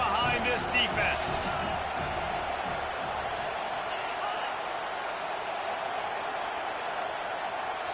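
Stadium crowd at a college football game, Raleigh U versus Notre Dame, roaring behind the defense on a big third down, a sustained loud wash of cheering that rises briefly early on and then holds steady.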